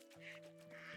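Ducks quacking in the farming game Medieval Dynasty, a couple of short nasal quacks close by over a steady low background hum.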